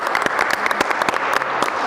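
An audience at the Adwa Museum celebrating the 130th Adwa Victory anniversary claps for quiz winners, a dense burst of many hands applauding steadily and fairly close, with no talking over it.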